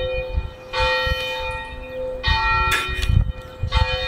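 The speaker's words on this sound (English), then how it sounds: "Can I also just vent for a second about like church bells?" Church bells ring out in a few separate bursts with long sustained tones, heard alone without talk.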